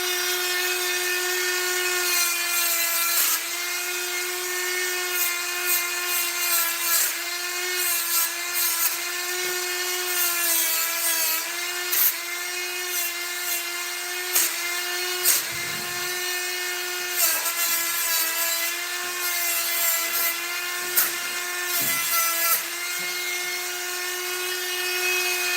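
A die grinder spins at high speed with a Kutzall disc carving wood, giving a steady piercing whine with repeated brief dips and bites as the disc cuts in, and no talking.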